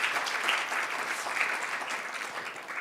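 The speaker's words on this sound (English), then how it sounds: "We can clap." Audience applause at a patients' congress session, steady continuous clapping from a seated crowd at moderate distance, even and sustained with no talk over it.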